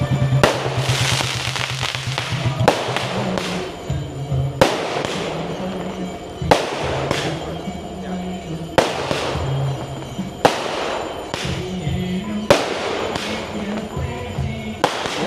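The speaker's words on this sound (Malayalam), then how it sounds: "വെടിപൊട്ടുന്നതാണ്" Repeated loud bursts of fireworks and firecrackers, a sharp blast every two seconds or so, each followed by crackling and rumbling decay, with faint crowd noise underneath.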